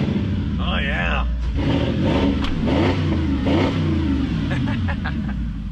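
A running Porsche Cayenne S with a freshly replaced V8 engine rumbles and revs nearby at steady loudness, mostly under people talking over it.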